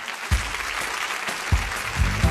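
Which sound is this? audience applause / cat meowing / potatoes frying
audience applause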